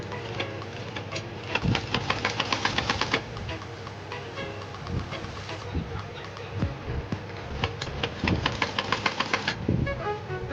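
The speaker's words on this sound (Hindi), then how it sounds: "इस छोटी लेस को, छोटे रिबन को इस तरह से सिलते जाएंगे" Domestic sewing machine stitching a small ribbon and lace along a kurti border made from leftover cloth, rapid mechanical clatter in two bursts separated by a quieter pause, close and moderately loud.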